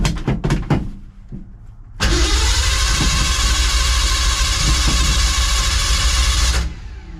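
A 1982 Ford F-150 pickup, its engine pulled and oil pan swapped, cranks briefly and then fires, settling into a loud, steady running idle that cuts off near the end after some preceding clatter.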